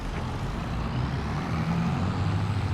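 A tractor engine in Farming Simulator 22 drones steadily and loudly throughout, with a low, continuous rumble that shifts slightly in pitch.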